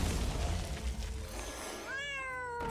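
A cat meows in a Hearthstone-style card game, a short rising-then-falling cry near the end that follows a dense, busy wash of game sound and music.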